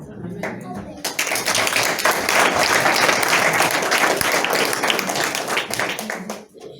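A church congregation bursts into loud, sustained applause after a short lull, dense clapping filling the space for several seconds before tapering at the end, with a few voices mixed in.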